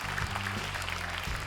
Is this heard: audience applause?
yes